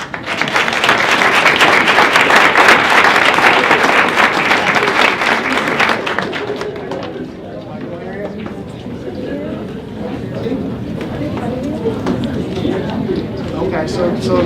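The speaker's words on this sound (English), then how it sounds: "welcome me in giving Michael Gonzalez and Sasha Mendez a round of applause" An audience at a Black History Month community event claps for two performers, with a dense, loud round of applause for about six seconds that fades into softer scattered clapping and crowd murmur.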